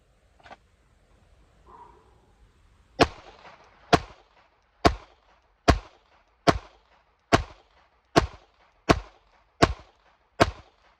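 Pistol shots fired in a shooting drill, ten sharp loud reports at a steady, slightly quickening rhythm after a couple of faint handling clicks, close with no talk.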